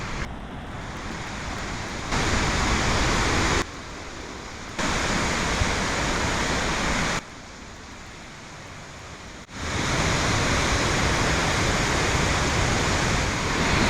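Steady roar of rushing water from a waterfall, broadband and constant, with the level shifting abruptly in a few places.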